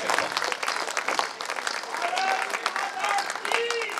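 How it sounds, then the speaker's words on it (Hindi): Crowd at a Hindi patriotic poetry recital clapping loudly and densely near the listener, with voices calling out and cheering over the applause. "एक बार भारत माता के श्री चरणों में दोनों हाथों पर उठाकर तालियां"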